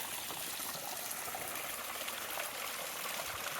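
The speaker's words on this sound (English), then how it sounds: "Look at this beautiful little water source here." A small trickling water source on a mountain trail along the Pacific Crest Trail, a steady close babble and gurgle of running water, continuous and fairly soft, with no talking.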